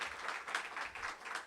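Brief, quiet patter of audience applause at a Korean field-study report event, soft and distant with no voices over it.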